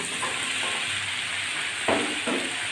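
Potatoes and chopped okra frying in a pan with onion and garlic, a steady close sizzle with a couple of louder bursts as pieces go in and a spoon scrapes.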